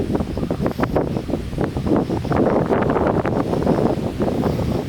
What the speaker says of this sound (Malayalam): നല്ല കാറ്റ് വീശുന്നു നിങ്ങൾക്ക് ക്യാമറയിൽ അതിൻ്റെ എഫക്റ്റ് കിട്ടുന്നുണ്ടാവും കേട്ടോ